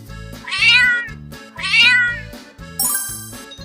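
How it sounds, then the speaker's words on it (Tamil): A cat meows twice, long and rising, close and clear over gentle background music, followed by a tinkling chime. "பூனை."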